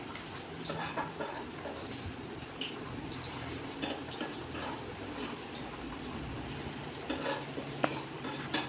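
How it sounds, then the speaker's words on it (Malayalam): Cashews and raisins fry in ghee for semiya payasam, giving a soft, continuous sizzle with occasional clinks of a spoon against the pan. "ഈ സമയത്ത് നമുക്ക് അണ്ടിപ്പരിപ്പും മുന്തിരിയും ഒക്കെ ഒന്ന് വറുത്തിട്ട് കൊടുക്കണേ"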